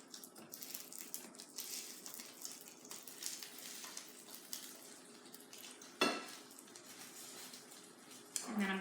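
A spatula scrapes and pries cooked waffled eggs loose from an unplugged waffle machine, producing soft, close scraping with a louder metallic knock near the end, over a low background hiss.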